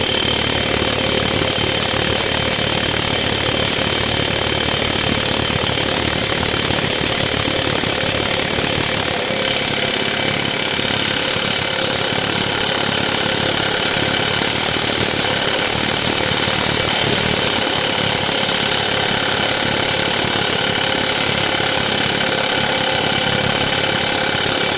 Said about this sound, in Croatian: malo je bilo bučno, ali šaraf smo uspjeli skiniti